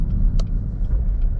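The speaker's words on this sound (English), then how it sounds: "we're on a very bumpy road right now" A 2022 Camaro ZL1 in touring mode rolls over a very bumpy road, heard from inside the cabin as a loud, steady low rumble of engine and road noise with a brief thump midway.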